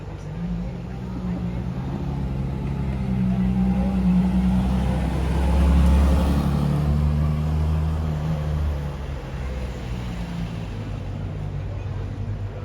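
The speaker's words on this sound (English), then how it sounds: "here are the next two cars that just randomly came around the corner within 30 seconds of one another." A Pagani Huayra and a Ferrari LaFerrari come around a corner in Monaco, their engines swelling to a loud peak as they pass close by and then fading, with a steady low rumble throughout.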